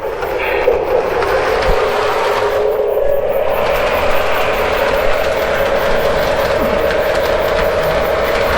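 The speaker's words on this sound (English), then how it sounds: "Oh wow, this is about the smoothest I've run the train so far." A Lionel model train runs on a layout track, making a steady, close rolling rumble with a constant motor whine that continues evenly for several seconds without talk.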